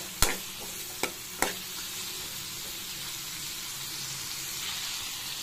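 Tomatoes and drumsticks sautéing for raw mango sambar give a continuous soft sizzle, punctuated early by three sharp spoon knocks against the pan, with no voices.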